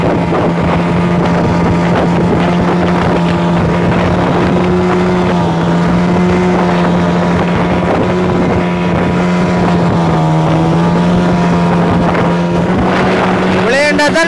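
A boat engine runs at speed, a loud, steady droning hum with slight pitch wobbles, heard up close over constant wind buffeting on the water.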